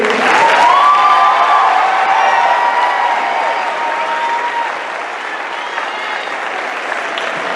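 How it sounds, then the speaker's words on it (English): Loud, sustained clapping from a large audience at an eighth-grade graduation ceremony, steady for several seconds and gradually easing off slightly toward the end. "A round of applause for row 3."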